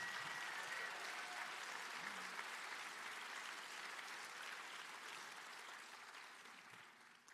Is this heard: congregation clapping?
yes